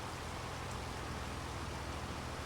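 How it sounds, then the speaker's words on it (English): Steady, dense rain in Farming Simulator 25, a continuous broadband hiss that holds at an even level throughout with no pauses or breaks. "The rain should be stopping fairly soon now."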